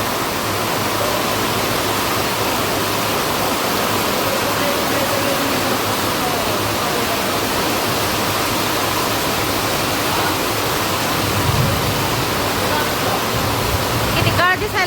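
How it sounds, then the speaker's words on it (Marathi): Heavy rain pours onto an asphalt road with sugarcane fields nearby, a dense, loud, unbroken roar of water lasting throughout, with a few voices faintly under it near the end. "लय जोरदार पाऊस आलाय बघा, असा जोरदार आलाय."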